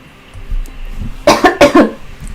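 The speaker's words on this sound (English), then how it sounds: "Sorry, didn't want to cough in your ears." A man coughs close to the microphone during a livestream, two or three sharp loud hacks in quick succession after a brief quiet moment.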